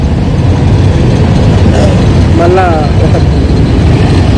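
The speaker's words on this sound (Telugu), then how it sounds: "ఘోరంగా ఉంది భయ్య ట్రాఫిక్ అయితే" Riding a motorbike through heavy city traffic brings a loud, constant engine rumble with a brief horn blare from nearby vehicles, while someone talks over the noise.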